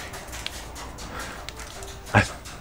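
A dog indoors reacts to something on the roof with one short sharp bark near the end, after faint whimpers over a low background hum.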